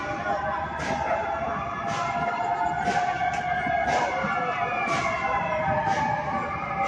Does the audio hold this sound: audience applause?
no